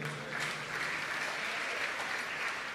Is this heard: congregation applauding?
yes